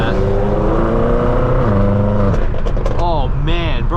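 A BMW engine droning steadily on a highway with a low, even hum, its pitch shifting with speed changes. Someone talks over it near the end.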